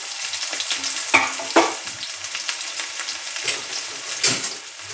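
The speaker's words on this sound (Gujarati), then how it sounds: "હવે આપણે તે સ્ટેજ પર આમાં ડુંગળી એડ કરીશું. સૂકી ડુંગળી અને લીલી ડુંગળી બંને મિક્સમાં છે" Dry and green onions dropped into hot oil in a pan over low gas for a village-style millet flour snack. A steady close sizzle is punctuated by a few louder crackling bursts as the onions hit the fat, with no talking.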